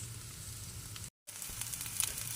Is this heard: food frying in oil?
yes